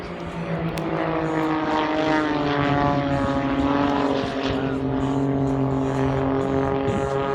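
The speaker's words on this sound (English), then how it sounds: "They'll be coming in for a barrel roll." Aerobatic propeller planes fly a barrel roll at the 2017 Australian International Air Show, their engines a loud, steady, droning roar with a shifting pitch that fills the whole stretch without pause.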